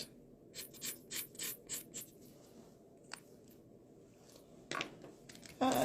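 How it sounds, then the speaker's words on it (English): Scissors snip through paper pieces nearby in a quiet room, a run of short, soft cutting strokes in quick rhythm, then a pause and a few louder rustles and snips near the end. "take your scissors and cut these pieces"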